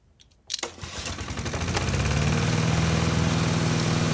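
A primed lawn mower engine catches after a short pull and revs up into a loud, steady running roar that continues to the end.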